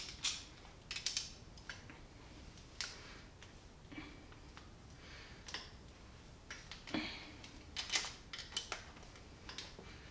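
A ratchet clicks while bolts are removed from an SRT4 engine during disassembly, giving quiet, close, irregular bursts of clicking and metallic taps over a low background.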